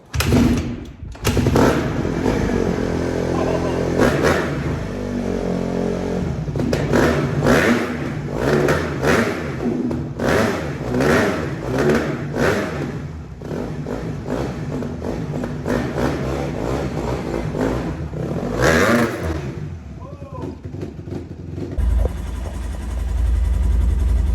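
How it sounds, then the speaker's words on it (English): A Honda CRF150 four-stroke dirt bike engine revs hard and loud in repeated blips that climb and fall, close by and steady for over twenty seconds. It ends with a low rumble. "you'll be able to hear this 150, because I'm not a 4-stroke guy. These little motors are savage"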